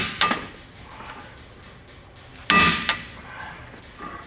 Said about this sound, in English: we're gonna use an easy out to break it loose